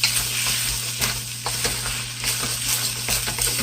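Leftovers stir-frying fast in a hot pan, a steady close sizzle with scraping and stirring bumps throughout, no voices.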